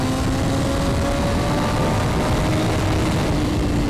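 A motorcycle on a race track at a California Superbike School session, its engine droning loud and steady with a rising tone as the throttle rolls on out of a tight third-gear bend, with wind rush throughout.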